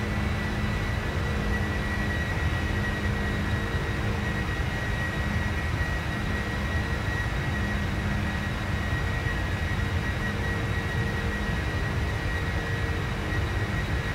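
An airliner engine in the Prepar3D flight simulator, on a Lufthansa flight from Frankfurt to Sea-Tac, produces a constant loud roaring drone with a steady hum, unbroken throughout.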